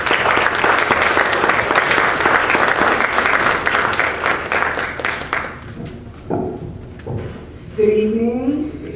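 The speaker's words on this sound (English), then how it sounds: "ask you to please give Dr. Johnson a warm round of applause" An evening audience applauds warmly for Dr. Johnson in a lecture hall, with dense, sustained clapping for about five seconds. The clapping thins out and a speaker starts talking.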